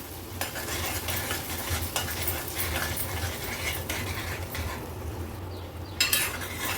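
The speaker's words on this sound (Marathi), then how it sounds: "वाटण तेलावर जरा मिनिटभरासाठी ना असं तळून घेतल्यासारखं परतून घ्यायचं आहे" Raw green mango paste sautés in hot oil, a steady sizzle and frying crackle with a few spoon scrapes and stirs against the pan, close and alone.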